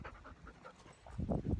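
A dog pants near the microphone, quick rhythmic breathy huffs that grow louder and heavier toward the end, with no talking.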